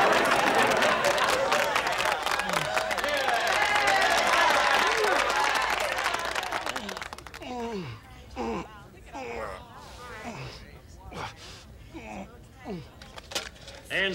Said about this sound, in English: They're applauding Ben Spangler